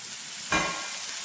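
Chopped spinach dropped into a pan of hot masala for paneer palak gravy, giving one sudden loud sizzle burst that settles into a steady frying hiss.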